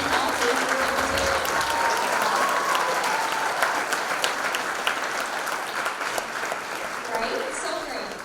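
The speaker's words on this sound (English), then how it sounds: "Let's give them all one more huge round of applause for completing all phases of their mission." An audience at a Miss Racine pageant applauds loudly and steadily in a sustained, dense wave of clapping that eases slightly toward the end.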